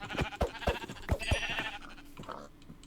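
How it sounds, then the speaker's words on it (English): Sheep bleat several times in quick succession in Minecraft, short repeated cries fairly close, followed by quieter game sounds. "I see in the distance some sheep"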